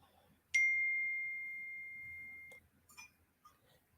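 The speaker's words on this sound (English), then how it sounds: "you just got notification for YouTube" A YouTube notification ding: one bright, sustained electronic tone that rings clearly and slowly fades over about two seconds, followed by a few faint clicks and rustles.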